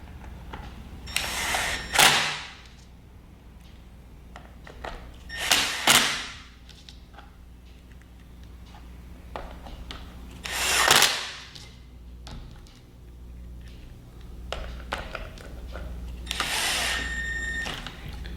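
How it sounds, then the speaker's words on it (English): Screws are driven back into a floor squeegee tool, heard as three loud bursts of whirring and rattling with quieter clicks and handling noise between them, no talking. "Now we're going to take our screws, put our screws back in."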